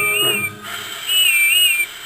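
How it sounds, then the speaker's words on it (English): A steam engine named Whiff sounds a thin, wavering whistle in two long bursts with a short gap between them, loud and close over a soft background hum. "Then, at last, she heard Whiff's funny whistle"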